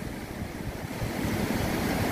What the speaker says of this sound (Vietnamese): sóng dội vào đá bọt tung té